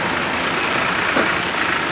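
Steady rain pours down in an area of Kim where streets are flooding and traffic is jammed, a dense even hiss holding at constant loudness throughout with no voices.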